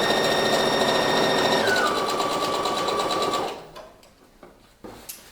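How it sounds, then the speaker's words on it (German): A sewing machine fitted with a jeans needle stitches old denim in one steady, loud, fast run lasting over three seconds, then stops, leaving a few soft clicks and handling knocks. "einfach alles dran nähen, so wie man es eigentlich auch ausgeschnitten hat und es Sinn ergibt, eine Hose zusammenzunähen"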